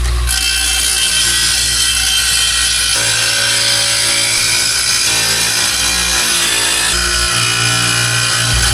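A power saw cuts floor tile for a tub-area tiling job, loud and continuous close-up grinding with a shifting motor tone and no talk.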